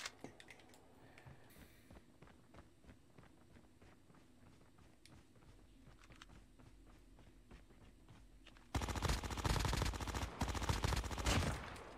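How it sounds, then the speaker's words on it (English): Gunfire in a downtown gunfight video game: faint rapid shots and scattered footsteps under a low ambient bed, ending in a loud, sustained burst of automatic fire. "Was there not another person just shooting at them?"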